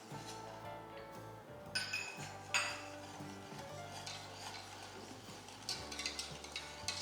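A spoon stirs coconut pudding mixture thickened with cornflour in a pan, giving steady scraping and soft clinks against the metal, with a few sharper knocks now and then. Close and continuous, with no voices.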